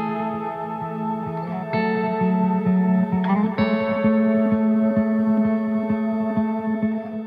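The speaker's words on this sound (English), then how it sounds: "The gear I used for this drone texture was a guitar going into the Electro-Harmonix Freeze" Ambient guitar drone run through an Electro-Harmonix Freeze sustain pedal with delay and reverb: steady layered harmonic tones swelling and shifting over a low pulsing hum, loud and continuous throughout with no voices.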